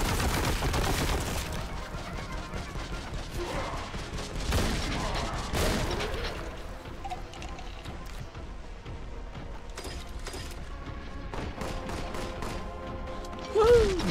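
Sustained gunfire from Warhammer 40,000: Boltgun, a dense roar of rapid shots and heavy thuds up front that thins into scattered bursts and mechanical clatter, loud and continuous with no talking.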